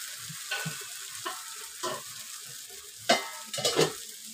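Ragi ghavane batter poured onto a hot pan sizzles and fries softly, with quiet crackles and occasional clinks of a spoon or pan rising above the steady hiss.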